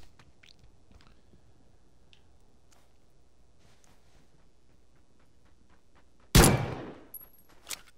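A single loud, sharp gunshot-like burst from a shooter video game breaks a long quiet stretch near the end, followed by a fainter after-crack.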